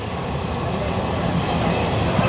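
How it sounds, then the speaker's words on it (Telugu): A train runs through a tunnel in Madhya Pradesh, giving a dense, steady roar of wheels and carriages with no clear breaks, loud and enclosed throughout. "ట్రైన్ జర్నీ 5 సొరంగాలు వెంబడి."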